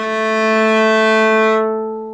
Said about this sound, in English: Sul Ponticello, or on the bridge, is playing with the bow as close to the bridge as you can to get a metallic sound full of overtones and whistles.